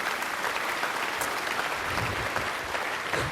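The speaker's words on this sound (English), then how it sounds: "you can clap, by all means" An audience claps throughout in dense, steady applause at a talk on stage, the sound full and continuous from start to finish.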